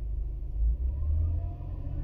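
A 2005 Honda Accord with a 3.5L engine, warming up, revs up and settles as the RPM changes, a close, low rumbling drone with a brief swell in the middle.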